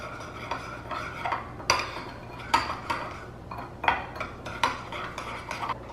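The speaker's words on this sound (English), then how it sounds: "You're then gonna stir this until it's combined" A spoon stirs chip dough mixed with water in a bowl, making close, rhythmic scrapes and clinks against the sides at a steady pace, with no one talking.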